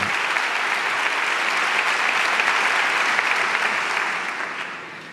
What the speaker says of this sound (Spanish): Él mismo aplaude porque sabe que el aplauso es para su santidad, para el Papa Francisco